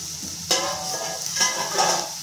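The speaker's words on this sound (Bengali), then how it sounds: "এটা আমি মশলার সাথে ভালো করে ভেজে নেব। যতক্ষণ তেল না ছাড়বে ততক্ষণ আমি নাড়িয়ে ভাজবো।" Spice paste of coconut, tomato, cashew and cumin sizzles in hot oil while a spoon scrapes and stirs it, a close, steady crackle with a few louder stirring strokes.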